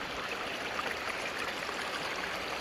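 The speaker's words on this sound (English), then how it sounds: "the water is running a little too fast for us to be able to use our sluices here" Fast-running river water rushes steadily over rocks, a constant, fairly faint broadband wash with no other sounds.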